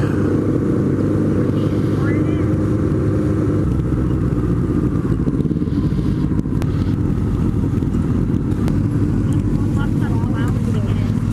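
Motorcycles, including a Honda Nighthawk, being ridden, with a constant loud engine drone and rushing wind noise that fill the whole stretch, no breaks.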